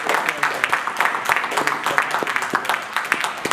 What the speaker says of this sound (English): Round of applause for a great campaign.